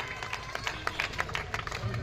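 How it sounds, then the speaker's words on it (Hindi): Scattered crowd applause at an open-air street-corner election rally at Mastan Chowk, Khamgaon, Buldhana, in 2024. Irregular claps patter steadily over a noisy outdoor background at moderate distance. "आप सभी लोगों को दरखास्त है कि तालियों के साथ इस पहल की तो हिम्मत अफजाई करें।"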